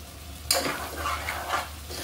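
Potatoes and shrimp stirred and fried with spices in a pan make a steady low sizzle with scraping strokes. A sharp clatter starts the stirring, followed by softer, uneven scrapes, close and continuous, with no talk.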